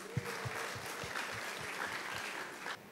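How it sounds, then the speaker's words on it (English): Audience applause following a youth spoken word performance at a speak-up event, a steady wash of clapping from a crowd that sustains for a few seconds, with a few sharper hand claps standing out near the microphone. "Please give them a round of applause."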